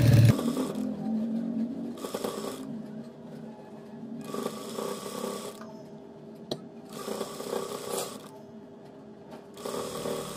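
A sewing machine stitches lace onto the hem of a salwar in bursts, steady mechanical whirring starting and stopping several times, close and moderately loud with brief pauses between runs.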